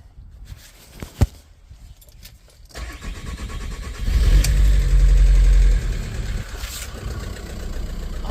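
A VW T5 van's 1.9 TDI diesel cranks briefly and fires up after a turbo replacement, settling into a loud, steady idle with a rising rev around the middle before easing back; no one speaks.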